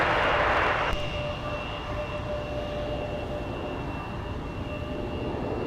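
A Delta airliner arriving at MSP airport, a steady distant engine roar that holds evenly from start to finish with a brief louder rush at the opening, no voices.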